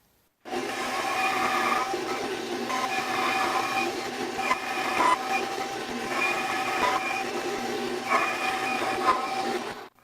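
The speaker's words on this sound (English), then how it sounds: "So now what we need to do is we need to take it over to the bandsaw and cut it into pin blanks." A bandsaw cuts a burl and resin hybrid blank into pen blanks, giving a steady, loud whining drone for nearly ten seconds with slight swells in pitch as the blade works through the wood.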